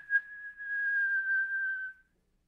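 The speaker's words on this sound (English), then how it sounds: "He pushed it open and gave a shrill whistle." A man at an open window gives a single shrill whistle, one clear, steady, high note held for about two seconds and then cut off, close and alone in silence.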